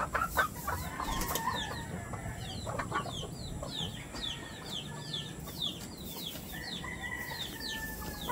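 A brooding hen settled over her eggs among gamecocks clucks in a steady run of short, repeated calls, with occasional wing flutters and other fowl sounding faintly around it.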